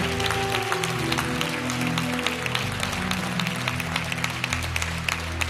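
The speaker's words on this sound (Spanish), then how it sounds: "Más fuerte ese aplauso para el Señor Jesús" Applause from a congregation at an evangelical church service and revival campaign, steady clapping with sharp claps throughout over sustained music or organ tones, fairly loud and continuous.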